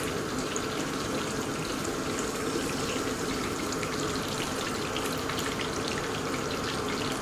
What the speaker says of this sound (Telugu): ఇప్పుడు చింతపండు పులుసు వేస్తున్నాను